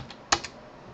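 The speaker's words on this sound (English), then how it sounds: "We'll type in password again." A password is typed on a computer keyboard: a brief run of a few soft, close key clicks, one sharper press among them, over a quiet room hum.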